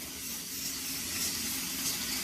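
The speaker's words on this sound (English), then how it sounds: "A non-stick spray." Non-stick cooking spray hisses from a can into a baking pan for cinnamon rolls, one continuous soft spray lasting a couple of seconds, close and without speech.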